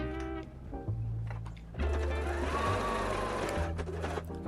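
A sewing machine runs in steady bursts while stitching a quarter-inch seam around the borders of reusable towel face pads, its motor humming close up, pausing briefly, then running continuously.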